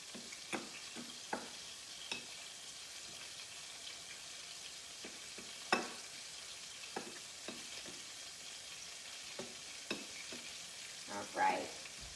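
Gluten-free chicken nuggets fry over medium heat in a pan, giving a soft, steady sizzle broken by scattered clicks and taps of utensils.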